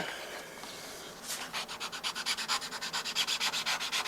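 Sandpaper rubbing on brass in quick, even back-and-forth strokes, close up and steady, starting after a brief quieter moment.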